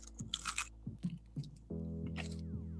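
Crunchy bites into a crispy, flaky lotus pastry come up close as several crisp crackles and chewing sounds, followed by a steady low hum.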